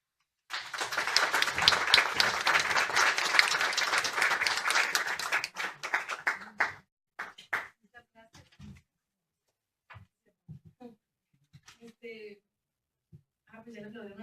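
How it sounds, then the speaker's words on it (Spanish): An audience at a panel discussion claps steadily for several seconds, then the applause thins out and fades into sparse scattered claps and quiet voices. "ya le aplaudieron a la maestra, ¿verdad?"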